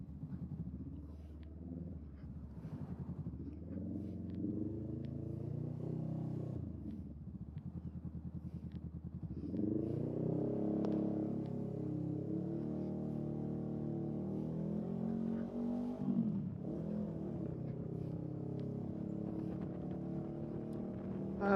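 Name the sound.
motorcycle engine revving in traffic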